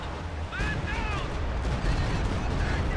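Katyusha rocket artillery barrage in the World War II strategy game Company of Heroes 2: dense, continuous rumbling booms and crackling impacts under a faint whistling, heard beneath a commentator's voice.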